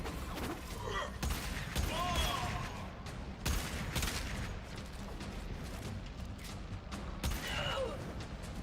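Gunfire in the Warframe video game: a dense, steady stream of rapid shots and mechanical weapon noise, held at an even level throughout, with a few brief louder bursts scattered across it.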